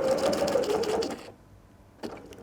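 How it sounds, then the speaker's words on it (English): A sewing machine back stitches fabric for a drawstring backpack, a steady close whirring run that stops partway, followed by a short burst as stitching resumes. "And I am gonna back stitch to make that secure."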